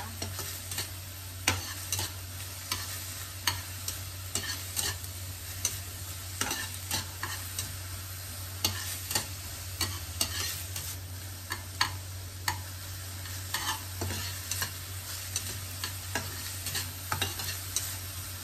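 Garlic and onion sauté in a pan, a constant sizzle cut by frequent sharp spatula scrapes and taps against the metal, close and fairly loud, lasting throughout.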